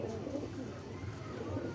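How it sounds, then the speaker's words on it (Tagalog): A medium-sized wild bird with its tail feathers gone, coos softly and steadily in a low, continuous murmur, with someone talking over it throughout. "Ayan, napakagandang ibon."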